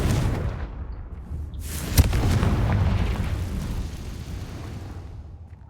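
A Confringo spell blast from the Hogwarts Legacy video game, a sharp booming burst near two seconds that rolls into a sustained rumbling roar, fading slowly over several seconds.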